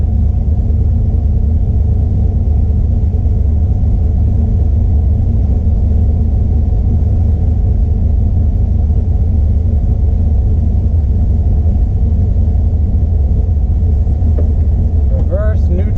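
A boosted 4.8 engine car under load makes power, giving a deep, steady droning rumble that holds constant for about sixteen seconds, with faint squeaks near the end.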